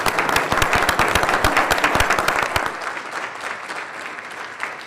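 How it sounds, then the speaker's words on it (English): Audience at a board of trustees meeting giving a round of applause, dense clapping for about three seconds that then fades quickly into quiet room tone. "So enjoy me with a round of applause."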